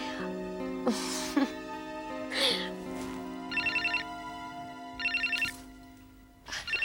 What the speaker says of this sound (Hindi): नेहा, तुम्हारे लिए फोन है